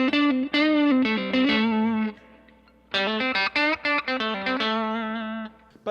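Fender-style electric guitar through a Fender-style amp with the boost pedal switched off: bright, clean, close-miked phrases of picked notes and bends, with a brief pause midway, no talking.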